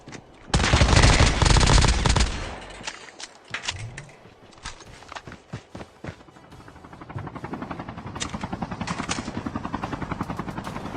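A helicopter in a video game roars overhead amid bursts of automatic gunfire and scattered shots, loud at first, then a steady rotor drone continues under intermittent firing.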